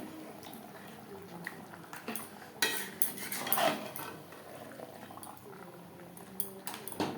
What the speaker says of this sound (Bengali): মাথা মাছের মাথা আলু মশলা ও চালের সাথে বেশ ভালো করে মিক্স করে দেবো